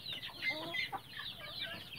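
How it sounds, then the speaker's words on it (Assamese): Desi local chickens kept for breeding on a raised platform in a poultry shed cluck softly and continuously in overlapping calls, faint and somewhat distant. "ওপৰতো আছে কুকুৰা, ওপৰত ব্ৰিডিঙৰ কাৰণে ৰাখোঁ"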